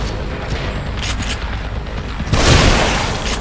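A shotgun blast in the survival horror game The Evil Within, a loud booming shot that lands partway through over ongoing game ambience, with a lingering rumble after it.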